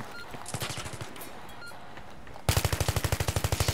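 Bursts of automatic gunfire from the video game Battlefield 3, a short rattling volley followed by a louder, rapid, evenly spaced string of shots up close.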